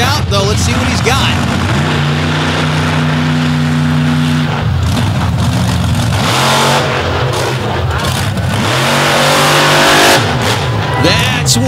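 A monster truck's engine roars and revs hard through a slab wheelie at a Brooksville monster truck show, loud and sustained with rising and falling pitch, over crowd and announcer noise.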